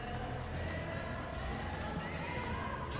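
A dense, steady roar of a stadium crowd cheering fills a PES 21 football simulation of Manchester City against West Ham United on a clear evening, loud and continuous with no breaks.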